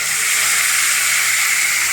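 Ginger, chili and garlic paste frying in hot oil in a village-style home kitchen, a steady, close, loud hiss and sizzle that holds evenly throughout with no talk.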